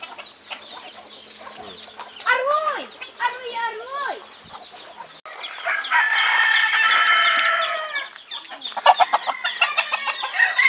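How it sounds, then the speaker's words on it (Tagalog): Backyard chickens in the Philippines cluck in a busy chorus while a rooster crows loudly nearby during an afternoon feeding, with a brief spell of voices among the calls. "nagpapakain ng mga manok"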